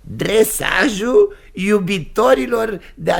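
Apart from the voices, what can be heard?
No everyday noises stand out.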